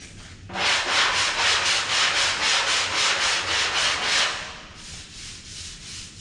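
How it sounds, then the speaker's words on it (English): A DA sander works an auto body panel with 80-grit paper to remove file marks, giving a loud, close, steady rasping whir with rhythmic pulses that runs for about four seconds, then drops back to quiet. "you're just going to run that DA over it to get the file marks out."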